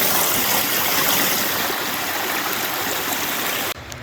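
A trail stream pours over a waterfall, a steady, loud rush of water that fills the scene alone and cuts off abruptly near the end.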